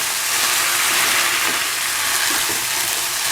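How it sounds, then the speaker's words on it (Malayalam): Boiled tapioca being stirred in a hot frying pan gives a steady, close, loud sizzling hiss that runs without a break. "ഇതിലേക്ക് നമ്മൾ സ്റ്റെയിൻ ചെയ്ത് വെച്ച കപ്പയില്ലേ അത് ചേർക്കുക. നന്നായിട്ട് ഇളക്കി കൊടുക്കുക."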